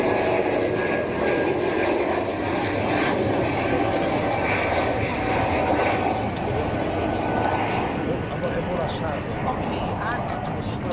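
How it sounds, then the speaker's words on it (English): A plane takes off from the cross runway at Zurich Kloten Airport, heard as a broad, steady roar that holds without fading, distant and rushing under wind and open-air background noise. "More departure action on the cross runway."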